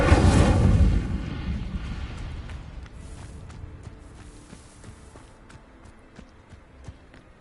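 A fire spell cast in the video game Hogwarts Legacy: a loud burst of roaring flame in the first second, then fading into a long crackling, rumbling tail with scattered small pops and impacts.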